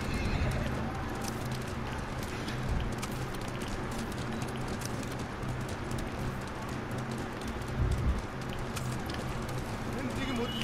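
Horse neighing and hooves clip-clopping in the samurai video game Ghost of Tsushima, a steady, busy game soundscape with possible rain, the whinny rising around the middle amid continuous hoofbeats.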